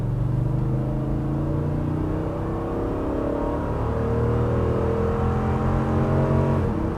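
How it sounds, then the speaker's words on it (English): A Lexus GX 460 SUV engine pulls hard under acceleration, its loud, steady drone climbing in pitch through the gears, heard from inside the cabin with no voices. "Let's listen to this engine"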